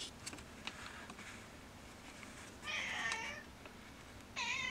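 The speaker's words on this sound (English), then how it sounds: "my cat's meowing" A house cat meows twice from a short distance, brief and fairly faint against a steady room hiss, with quiet handling noises in between.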